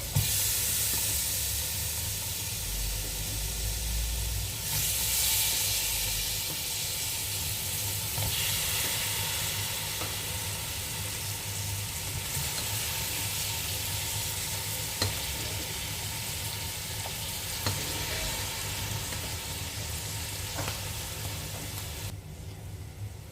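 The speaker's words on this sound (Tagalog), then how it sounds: "igisa lang natin mga karosas para masarap" Half-cooked meat and carrots are sautéed with spices and black lemon in a pan, giving a loud, continuous sizzle and hiss with occasional stirring scrapes throughout, no voices.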